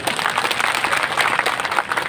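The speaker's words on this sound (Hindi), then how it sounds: "तो एक अविनाश जी सैनी के लिए जोरदार ताली बजाओ" Crowd at an election rally applauding for Avinash Saini, steady loud clapping from many hands filling the whole stretch without a break.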